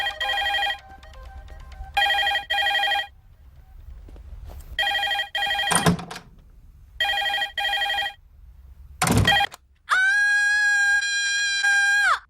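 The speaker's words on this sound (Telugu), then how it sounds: "అర్థం చేసుకోకుండా ఓ రింగ్ మీద రింగిస్తావేంటి?" A telephone ringtone sounds loud and close in repeated short bursts separated by silences, broken by a couple of sharp hits, then settles into one longer sustained ringing tone at the end.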